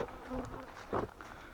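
Honeybees circle near a closed hive during autumn feeding, drawn by the smell of honey; a faint, uneven buzzing of a few bees passing close, rising briefly as one flies by, with no talking.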